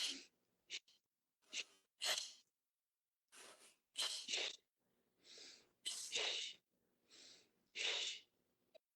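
Sharp nasal sniffing inhalations during a breathwork exercise, roughly a dozen short bursts in irregular clusters with silent gaps between them, close and fairly loud with no talking.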